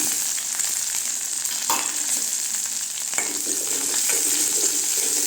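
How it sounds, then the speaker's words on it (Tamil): Onions with dried and green chillies sauté in a pan, a steady near sizzle with a few brief stirring scrapes over its short span. "வெங்காயம் மிளகாய் நல்லா வதங்கட்டுங்க"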